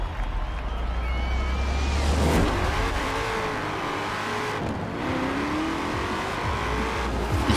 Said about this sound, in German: Ich drück voll durch im zweiten Gang.